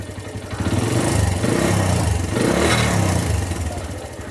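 A Suzuki Thunder 125 motorcycle engine is revved with the throttle during an ignition and battery charging check, giving a close, loud, rough mid-range engine roar that rises and falls twice.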